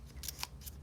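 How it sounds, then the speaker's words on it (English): Scissors snip fringe lines into a sheet of paper, a few quick crisp cuts in close succession, quiet and close with no talking. "you're going to take a paper and you will cut little lines side by side"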